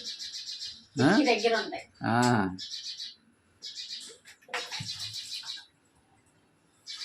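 Birds call and chirp in bursts, near and fairly loud, with pauses and varying pitch; a person speaks briefly among them.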